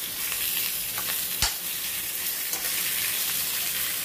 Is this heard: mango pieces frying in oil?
yes